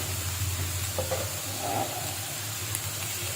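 Spices and vegetables fry gently in a pan for a Bengali mixed vegetable dish, giving a soft, steady sizzle with a faint stir partway through, heard up close and without talk.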